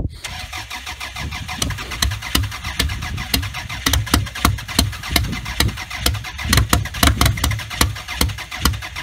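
A car engine cranks on a cold January start, its starter churning in a loud, close, steady rhythm of repeated pulses.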